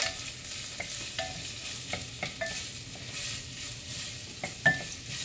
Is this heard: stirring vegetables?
yes